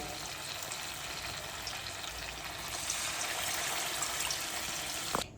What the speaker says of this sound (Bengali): চিকেনগুলো আমার মাখানো হয়ে গেছে, এবার আমি একটা একটা করে সুন্দর করে ভেজে নেবো